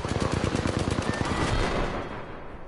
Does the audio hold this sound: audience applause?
no